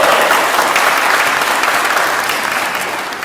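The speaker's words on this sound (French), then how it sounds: "Je vous demande donc d'applaudir la charmante candidate Tondélie" A live audience at a church youth skit applauds a candidate in a staged debate, producing loud, close clapping that stays dense throughout and fades slightly toward the end.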